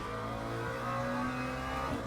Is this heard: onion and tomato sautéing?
no